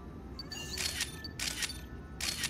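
In the video game New Pokemon Snap, a camera shutter clicks three times in quick succession, each a short bright snap over a low background hum.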